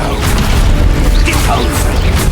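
Descendo spell cast in Hogwarts Legacy, a loud, dense burst of booming crashes and whooshes that fills the whole short stretch with no pause.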